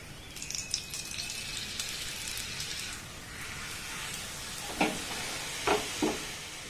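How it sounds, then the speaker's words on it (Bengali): A paratha fries in a little oil in a pan, a faint continuous sizzle with a few soft taps and scrapes near the end, heard close with no talking. "তেলের পরিমাণটা খুব বেশি দেওয়ার দরকার নেই একদম অল্প তেলেই আমি ভেজে নেব"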